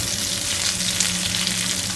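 Peshawari-style chapli kebabs frying in a pan give a loud, steady, close sizzle that holds evenly throughout, with no voices.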